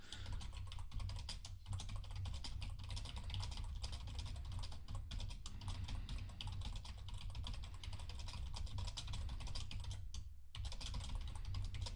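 Steady rapid typing on a computer keyboard, with dense irregular key clicks running close and continuous over a low background hum, plus a brief pause near the end.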